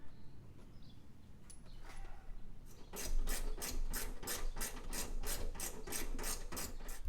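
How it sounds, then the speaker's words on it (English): A hand ratchet loosens a 13mm bolt while a cold air intake is being fitted on a Ford F150. After a quiet start come steady, rhythmic rasping clicks, close up, repeated about a dozen times. "Next thing we're actually gonna do is remove this 13mm."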